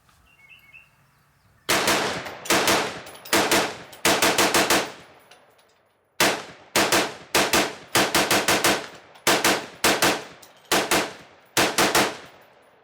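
AR-15 rifle fired rapidly from a Lancer magazine outdoors, loud sharp shots in quick bursts and strings separated by short pauses, with a faint bird calling early on.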